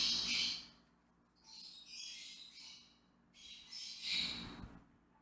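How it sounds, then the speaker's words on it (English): Pet birds squawk and chirp indoors in three loud bursts separated by quieter gaps, close to the microphone with no talking. "my birds are pretty noisy."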